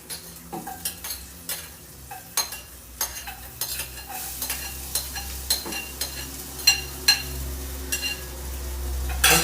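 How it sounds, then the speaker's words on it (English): Onion and chili cook in hot oil in a pan, a steady sizzle running under repeated clattering stirs of a utensil against the pan, loud and close, with no speech. "The oil is hot, so I'm going to put the onion and chili inside."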